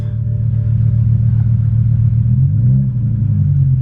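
A BMW M5 V10 engine idles roughly with a loud, low, uneven rumble close by, its pitch wavering slightly with no talking.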